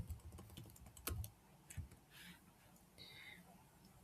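Keys clack on a computer keyboard in short irregular bursts, a few louder taps standing out against a quiet room tone, with no one talking.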